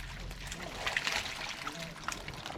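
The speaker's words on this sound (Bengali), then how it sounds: "পানি পড়ছেই তো" Water trickling and splashing out of a container as fish fry are loaded on a pond fish farm, faint irregular dribbles and small splashes in a quiet outdoor setting.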